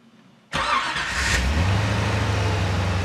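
A hot rod car engine fires up after half a second of quiet, with a sharp start-up burst, then settles into a loud, steady, deep rumbling idle close by.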